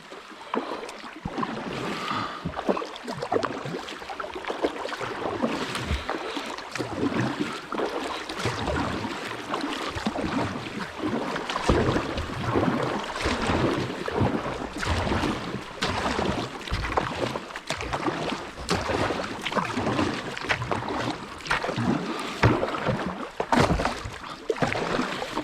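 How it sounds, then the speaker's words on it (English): Paddling a boat upstream on the Gunpowder River, with steady water swishing and splashing close by, plus some wind buffeting the microphone throughout. "There's a lot of work paddling upstream,"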